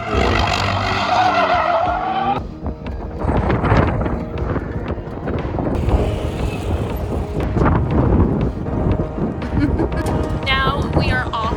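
A BMW car skids on a racetrack, with long squealing tire slides, engine roar and wind buffeting, loud and close, while people talk excitedly over parts of it.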